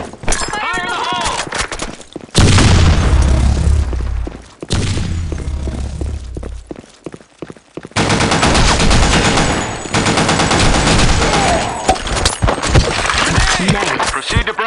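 Video game combat with a loud grenade blast followed by dense bursts of rapid gunfire, close and harsh, broken by brief pauses, with shouted voices mixed in.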